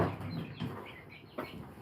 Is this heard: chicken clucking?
yes